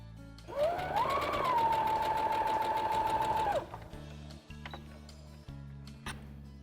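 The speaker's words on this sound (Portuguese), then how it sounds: "Vai lá na máquina de costura." A sewing machine runs a steady seam on fabric for a small girl's bag, a close, loud whirring buzz of about three seconds, followed by a few quiet clicks and handling knocks.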